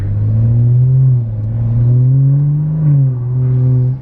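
A BMW F30 335i on newly fitted wheels and tyres, heard from inside as a loud, steady engine drone that rises and falls slightly with throttle, no talking.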